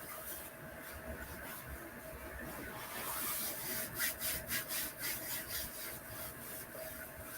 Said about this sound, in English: rubbing our hands together